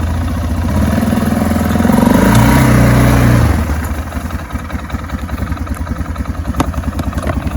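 A Motoleader ML200 quad bike engine runs close by in slushy cold weather, starting with a rising, throaty rev and then settling into a steady, chugging idle that continues loudly throughout.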